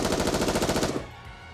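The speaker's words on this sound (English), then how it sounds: "Asuka and Rei unleash a barrage of gunfire towards the core of the massive object" A rapid, loud burst of automatic gunfire in the video game Goddess of Victory: Nikke, roughly a dozen evenly spaced shots rattling for about a second before cutting off into a fading rumble.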